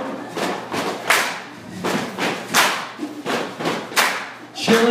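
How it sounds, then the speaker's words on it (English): A crowd at a youth poetry slam at Bentley's in Tucson stomps and claps in a loud, repeating stomp-stomp-clap rhythm, with sharp thuds and bright claps close by. "Stomp, stomp, clap. Stomp, stomp, clap."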